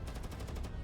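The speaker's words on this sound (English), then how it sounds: "You hear the gunshots out there?" Rapid machine gun fire in a battle scene, a continuous burst of evenly spaced loud shots lasting under a second.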